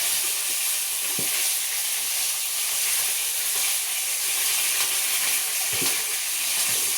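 Chicken frying in oil, a steady close hiss of sizzling fat running evenly throughout with a few faint crackles and no voices.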